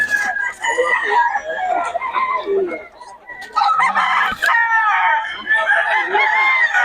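Several gamecocks crow loudly and close in Bocaue, Philippines, their calls overlapping continuously, with some clucking mixed in.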